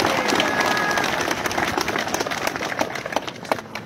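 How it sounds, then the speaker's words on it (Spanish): A crowd at a road blockade rally in Bolivia breaks into applause, brisk dense clapping heard fairly close, holding steady for a few seconds and loosening slightly toward the end. "Fuerte los aplausos, por favor"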